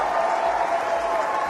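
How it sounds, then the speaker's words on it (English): Audience at the CPAC conference breaks into roaring applause, dense steady clapping that fills the whole moment with crowd noise and no voices on top. "So that's what got the roaring applause."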